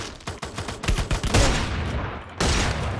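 Rapid gunshots ring out in Free Fire as a burst of close, sharp reports crackles in quick succession, then swells into a sustained roar of heavy fire with a fresh loud volley near the end.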